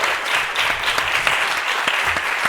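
A strong, dense round of audience applause for author David Sánchez at the close of a book talk, loud and sustained throughout with no voices.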